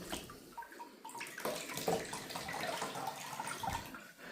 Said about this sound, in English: Just shake it a little bit in the water, let the excess water get out,